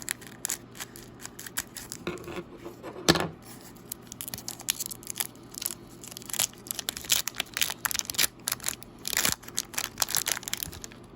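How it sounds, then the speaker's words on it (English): Scissors snip and slice through the foil wrapper of a stuck Yu Yu Hakusho Dark Tournament trading card pack, a series of close, crisp cutting and crinkling noises with a sharp crunch near the start and quick tearing bursts throughout. "this is why we have scissors on standby"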